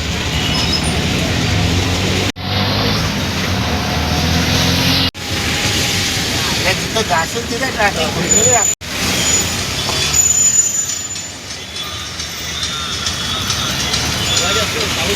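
Steady loud roar of heavy rain and a rumbling engine while riding in an auto-rickshaw through flooded market streets, broken by a few brief dips, with voices talking over it.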